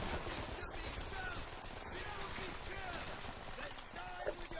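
Enemy soldiers firing in Call of Duty: World at War, Downfall mission: steady crackling gunfire and distant rifle bursts form a busy battle bed under someone talking throughout.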